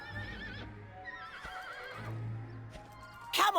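A horse whinnying in the Dragon Quest 8 video game, a faint wavering neigh among game music tones, followed by a brief louder burst near the end.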